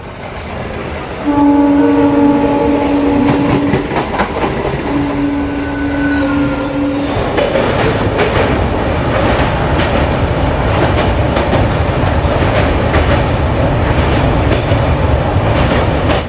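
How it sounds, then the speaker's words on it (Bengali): A passenger train runs out from Sealdah station, sounding two long horn blasts before settling into a loud, continuous rumble with rhythmic wheel clatter close by. "ট্রেন তো ছেড়ে দিয়েছে নির্দিষ্ট সময় শিয়ালদা থেকে"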